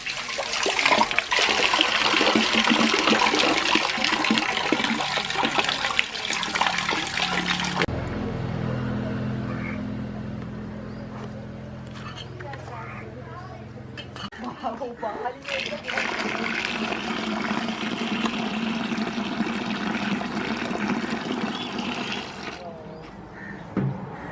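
Water in a fishing village without piped drinking water, drawn and poured from a well, comes as loud splashing and pouring that stops midway and then resumes, with people talking throughout.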